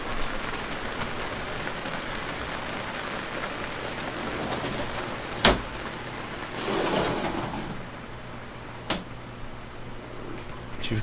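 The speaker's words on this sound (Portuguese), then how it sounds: "o toldo tá fazendo um barulhão por causa da chuva" Rain drums on a window awning with a constant patter, and a few sharp knocks stand out over the wash. No one speaks.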